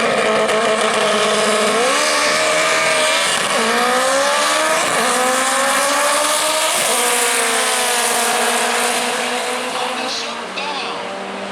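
A Honda CRX and a Honda Civic, both front-wheel-drive, drag race at a raceway: loud, sustained engine roar with rising revs and gear changes throughout, staying close and dense before easing slightly at the end.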